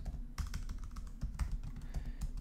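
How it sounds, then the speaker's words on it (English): Keys on a computer keyboard are tapped in a quick, irregular burst of close clicks, soft and crisp, with no voice over them. "We're going to type"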